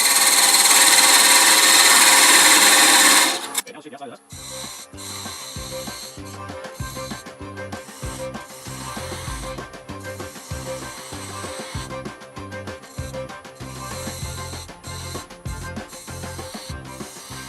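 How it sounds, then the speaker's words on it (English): A wooden workpiece is sanded on a lathe: a loud, broad rushing abrasion for about three seconds, then it cuts off into a quieter run of rapid, rhythmic mechanical clicking and rubbing that continues steadily. "So let's go ahead and we're going to take a moment to sand it."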